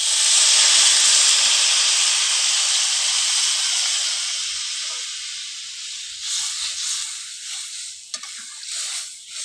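Water poured into a hot pan of frying silver carp with potato and green banana fills the air with loud, steady steam and sizzle that gradually eases, with faint stirring clatters near the end.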